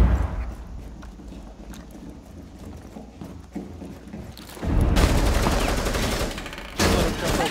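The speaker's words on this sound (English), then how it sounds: "they're shooting through it" Gunfire in Rainbow Six Siege on the Chalet map crackles in rapid bursts, faint and scattered at first and then louder, denser volleys, with brief voices mixed in.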